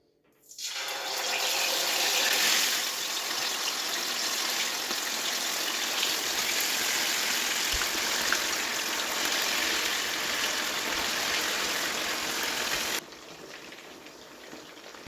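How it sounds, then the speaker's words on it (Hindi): Chicken pieces dropped into hot oil for a fried chicken masala roast set off a loud, continuous hiss and crackle that begins abruptly and holds steady for about twelve seconds before easing off. "अब इसमें ऐड करते हैं चिकन"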